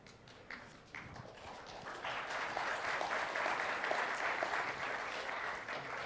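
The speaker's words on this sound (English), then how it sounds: "That was a quiet applause." Audience at a software developer conference session on .NET giving applause, starting with a few scattered claps and swelling into a modest, steady round of clapping from a crowd, fairly quiet and distant.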